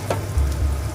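Onion browning with ginger paste in a pan gives a short burst of steady frying sizzle with a light stir, close and fairly loud, without any voices.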